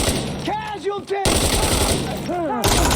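Gunfire in the tactical shooter game Insurgency Sandstorm, rapid bursts of shots crackling loudly over a busy battle soundscape, with voices calling out in the background.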